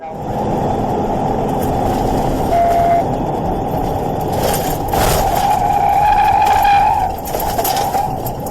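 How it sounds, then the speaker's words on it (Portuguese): An SUV races at high speed on an asphalt road during a police chase, its loud, continuous engine and tyre roar swelling and dipping, with a tyre squeal around the middle. "Em alta velocidade, o SUV derrapa bastante, mas Courtney consegue controlar o veículo."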